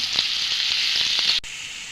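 Onion paste fries in a pan for chicken roast, a steady bright hiss and sizzle with faint stirring taps, cut short near the end.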